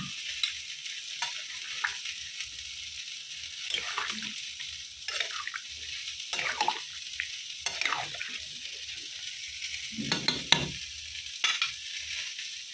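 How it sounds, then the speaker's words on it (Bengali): Frying potatoes and ridge gourd with paneer hiss steadily in a pan as water is poured in, followed by repeated stirring scrapes and bursts of sizzle, close and moderately loud with no talk. "এবারে দেবো জল"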